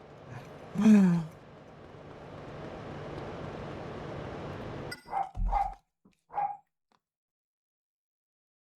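Dogs bark in GTA Vice City Stories on the PS2, with one loud yelp early over a steady game hum, then several sharp barks in quick succession that fade into silence.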